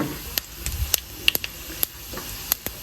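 Tempering spices dropped into well-heated oil for an okra masala pulusu crackle and pop in sharp, irregular bursts over a soft, close sizzle.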